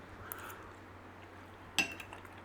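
A butter knife clinks once against a dish while a creamy garlic beef and mushroom skillet is served. The clink is sharp and brief over a quiet room hum.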